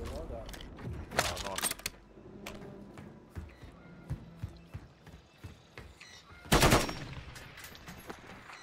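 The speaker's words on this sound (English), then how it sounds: "why do you keep trying to shoot me?" Gunfire in Call of Duty Warzone on Rebirth Island crackles in short, sharp bursts, with one loud rattling volley late on, under players talking over voice chat.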